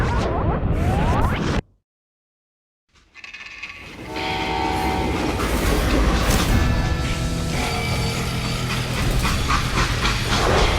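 A freight train from the Western video game Call of Juarez: Gunslinger rumbles along loudly, clattering on the rails with horn-like tones. After a sudden brief dropout to silence, the heavy rolling rumble swells back and continues.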